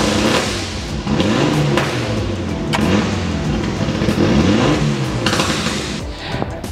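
A turbocharged Mitsubishi Lancer Evolution IV Ralliart with its anti-lag system running revs hard nearby, the engine note swelling and falling in repeated sweeps with sharp pops and cracks mixed in.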